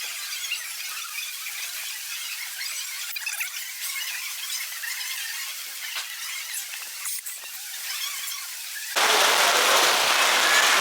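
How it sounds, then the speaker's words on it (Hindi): Rain at a mountain temple on the Nepal border, a faint steady patter with scattered drops at first, then a sudden much louder, dense rush of downpour or nearby pelting in the final seconds. "जैसे ही मंदिर पहुंचा बरसात हो गई शुरू"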